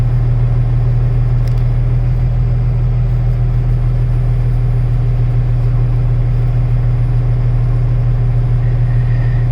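A truck engine idles through a DEF regeneration cycle, a steady low drone with a constant hum that stays even and unbroken throughout, with no one speaking.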